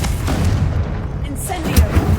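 A Confringo spell blast in Hogwarts Legacy lands as a loud, dense boom with rumbling game sound, overlapped by a player's voice.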